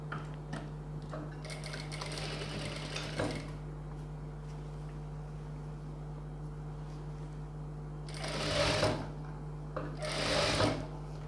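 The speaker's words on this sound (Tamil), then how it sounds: "இழுக்காமல் ஸ்டிச் பண்ணணும்" Sewing machine stitching the sleeve of a boat-neck blouse, with two loud whirring runs of rapid needle clatter near the start and end, separated by quieter handling and a steady motor hum.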